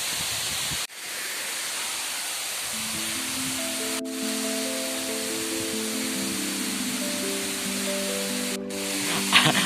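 A large waterfall near Chennai gives off a steady, dense roar of rushing water, close and continuous throughout. A soft melodic tune rises over the roar after a few seconds, and no one speaks.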